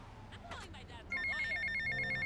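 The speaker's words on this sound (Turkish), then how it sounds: "Ha telefon gene çalıyor." A telephone rings in GTA Vice City Definitive Edition, its electronic ringtone starting partway in and holding steady and clear, while someone talks over the first half.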